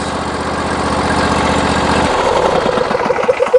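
A John Deere 22 horsepower riding lawn mower engine runs loud and close with a steady rough throb that shifts to a lower, looser idle partway through.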